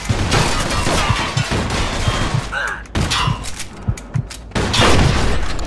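A Mafia II shootout: rapid, loud gunshots crack close by in dense volleys, with a brief lull and then fresh bursts, under occasional shouted voices.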